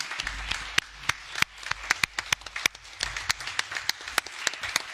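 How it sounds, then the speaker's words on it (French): Sharp scattered handclaps at a municipal council meeting, a modest round of applause from a small group with irregular overlapping claps running throughout, fairly close and steady. "on peut leur faire un petit applaudissement"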